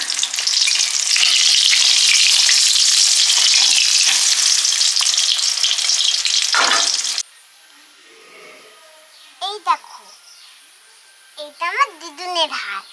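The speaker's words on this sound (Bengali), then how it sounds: "ঘাসের ফুলগুলো বড়া করে নিচ্ছি" Grass flowers frying as fritters in a pan during a child's pretend cooking play, a loud steady sizzle lasting about seven seconds that then stops abruptly, followed by quiet with brief bursts of a voice.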